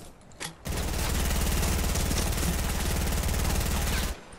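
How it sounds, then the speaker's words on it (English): Rapid sustained gunfire from a double-barrel shotgun in the video game Fortnite, a loud dense burst of repeated shots lasting several seconds with no talking. "I headshot him with the double barrel"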